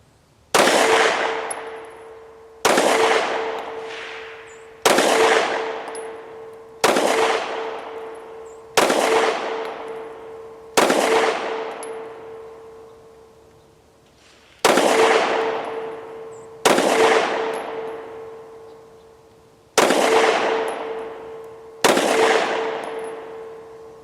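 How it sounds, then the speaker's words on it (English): Rock Island Derya DY9 shotgun fired at an outdoor range, about ten loud separate blasts spaced a couple of seconds apart, each with a ringing tail that fades before the next shot, with no talking. "the gun's pretty comfortable to shoot in terms of recoil and stuff"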